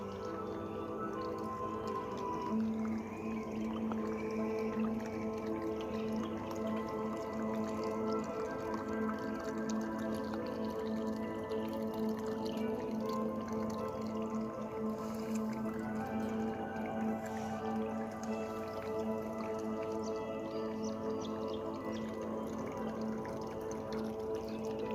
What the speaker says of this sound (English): I could hear the little trickle of water as I was walking along from where it was running off the wetland.